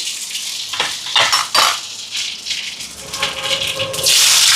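Mustard and fennel seeds dropped into a hot pan for a prawn curry, utensil clinks and scraping followed by a sudden loud burst of hissing, crackling sizzle at the end.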